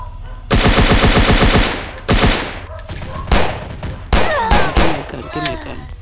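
Rapid gunfire from a free offline mobile shooter game: a loud automatic burst followed by scattered single shots and short volleys, close and punchy.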